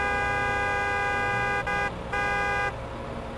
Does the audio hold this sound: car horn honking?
yes